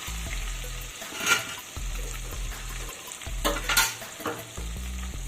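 Ground ginger paste fries in a pan over medium-low gas, a soft continuous sizzle with occasional louder bursts of stirring, while a low steady hum runs underneath.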